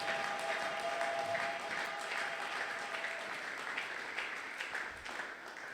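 A church congregation at a Sunday thanksgiving worship service breaks into sustained, fairly distant applause, a dense steady clapping that slowly thins toward the end.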